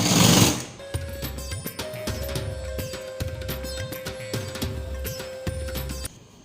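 A sewing machine stitches a blouse collar in quick bursts of rapid mechanical needle clatter, stopping and starting in a steady rhythm, close and clear.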